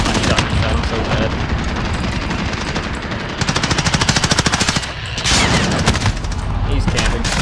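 Rapid automatic gunfire and bursts of shooting fill a Call of Duty Modern Warfare match, loud and close with a sharply pulsing stretch of fast repeated shots, broken by a brief lull before firing resumes.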